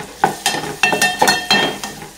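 Tomatoes, coriander and turmeric are stirred into dal khichdi in a hot pan: about eight quick, close scraping strokes of a spoon land in an uneven rhythm over a soft sizzle, with light metallic clinks.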